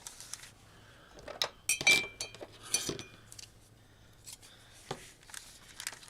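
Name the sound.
scissors trimming craft material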